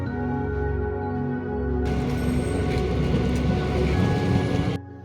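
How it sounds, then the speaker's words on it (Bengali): A train rumbles past with a low steady drone, then swells into a loud, broad roar of wheels and carriages for a few seconds before cutting off abruptly. "ম্যাডাম, ট্রেন চলে গেল।"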